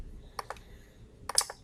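Several quick keystrokes on a computer keyboard while entering a pause command into a Windows command prompt batch script, arriving as two short clusters of close, crisp clicks separated by a brief gap.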